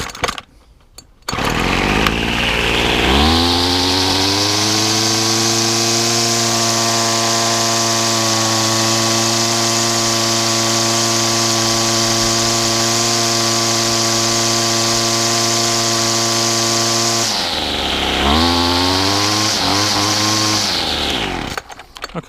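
A McCulloch petrol strimmer that has just had its fuel hose fixed starts after a few pulls and runs at a steady, loud, buzzing high idle for about fifteen seconds, then revs up and down before cutting out.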